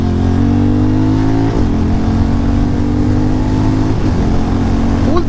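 A Harley-Davidson X440 or Hero Mavrick 440 motorcycle with a 440cc engine pulls hard at full throttle, its loud, close exhaust note climbing steadily through the gears with brief dips at each shift.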